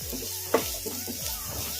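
Carrots frying in a pan over a medium flame for carrot chutney, a soft, steady sizzle with faint stirring scrapes and a small clatter, close and fairly quiet.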